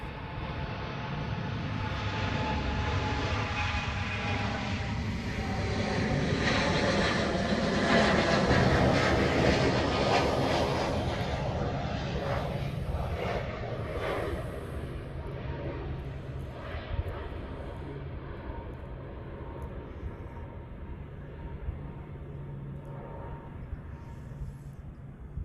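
A heavy aircraft approaches the runway in Hawaii with a broad, steady roar that swells toward the middle and then slowly fades, with no talk over it.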